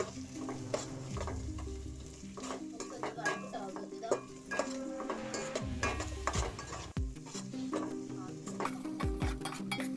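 Carrots and tomatoes being stirred in a frying pan, with repeated utensil scrapes and clinks against the pan over a steady sizzle, close and moderately loud, with some talk in the background.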